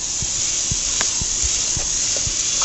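Onions sautéing in a pan for a baked spaghetti, giving a steady loud broadband sizzle and hiss throughout, with a few faint low knocks underneath.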